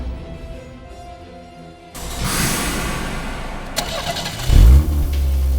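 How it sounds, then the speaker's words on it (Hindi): A car engine in a tense crime-drama scene cranks and catches about two seconds in, then idles before a loud rev near the end, running steadily and fairly close without speech. "इंजन की आवाज?"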